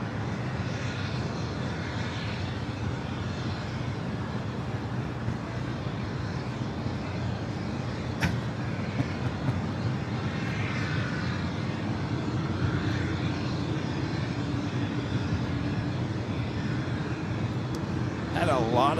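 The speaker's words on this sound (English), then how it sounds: "Looks like Virgin Atlantic Flight 7 coming in from London Heathrow, the A350 1000, 4 minutes out" A Virgin Atlantic Airbus A350-1000 from London Heathrow approaches LAX, its engines a continuous broad roar that holds steady throughout, with distant airport activity and occasional faint chirps in the background.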